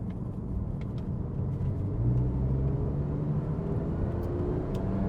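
A Porsche 911 Carrera 997.2 with PDK gearbox accelerating, heard from inside as a low engine rumble that rises in pitch and then shifts, with a quick change in tone as it downshifts.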